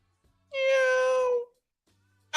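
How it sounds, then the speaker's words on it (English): A single drawn-out cat meow, about a second long and loud, comes from a cat stuck inside a truck's engine, set against near silence. "it's a cat in my engine"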